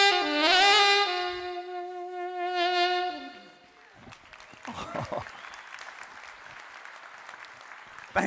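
An audience at a comedy show breaks into moderate, scattered clapping after a drawn-out, sung-sounding vocal phrase. The applause continues at a steady level to the end.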